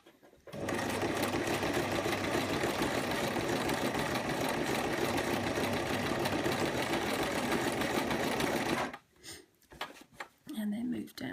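A sewing machine stitches a sugar skull pincushion, running in a fast steady whir for about eight seconds before stopping, followed by quieter handling sounds and a voice.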